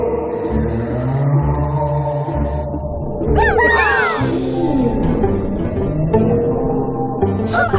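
Bowhead whale songs play in a cartoon undersea scene as rising and falling moaning, swooping calls over a dense layer of music and tones, loud and continuous.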